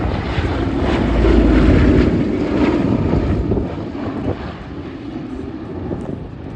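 Sally B, a vintage B-17 bomber, flies a display pass at the Abingdon Air and Country Show, a loud piston-engine roar that swells, peaks, then fades into a softer drone as it moves away.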